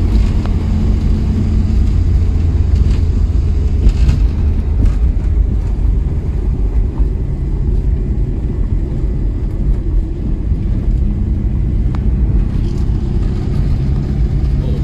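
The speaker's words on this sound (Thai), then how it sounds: "โอ้เครื่องยังนุ่มอยู่เลยครับ" An old Ford Taunus over fifty years old in good condition runs on a test drive, its engine giving a steady, loud, continuous drone with road rumble throughout and no speech.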